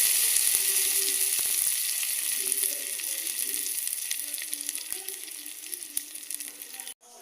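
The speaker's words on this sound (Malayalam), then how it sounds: "ഇനി നമുക്കിത് കറിക്കകത്തോട്ട് ഒഴിച്ചു കൊടുക്കാം" Roasted coconut is poured into a jackfruit erissery curry, setting off a bright, steady sizzle and crackle that fills the space up close, then cuts off abruptly near the end.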